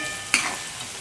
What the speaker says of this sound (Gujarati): થોડીવાર માટે આદુ મરચાંની પેસ્ટને સાંતળી લઈશું